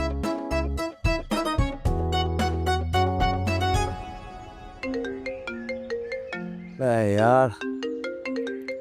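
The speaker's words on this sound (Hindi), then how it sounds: "इसका फोन आ गया।" A melodic phone ringtone plays loudly and nearby, a repeating electronic tune of bright notes, with a brief spoken word partway through.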